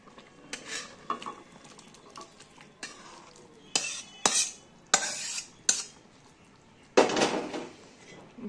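A utensil stirs cooked vegetables into thick moong dal in a metal pot, producing irregular scraping strokes and sharp clanks against the pot's sides, loud and close. A faint sizzle sits underneath.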